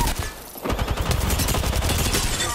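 Rapid, loud bursts of automatic gunfire from the video game Apex Legends, with shots rattling in fast, dense succession throughout, mixed with other game effects.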